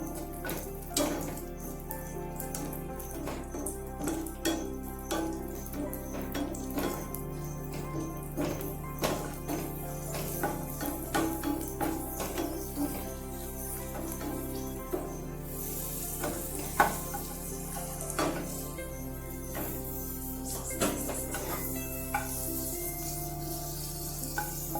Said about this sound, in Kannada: ಈಗ ಡ್ರೈ ಗ್ರೇಪ್ಸ್ನ ಹಾಕ್ತಾಯಿದ್ದೀನಿ